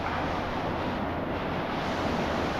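Steady broadband rush of the Carbon River, a milky glacier-fed stream beside a forest trail, heard continuously at moderate distance with no voices.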